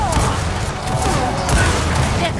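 Shotgun blasts in the video game Gears of War 4 sound as loud, rough bursts of gunfire amid chaotic combat noise, close and harsh throughout.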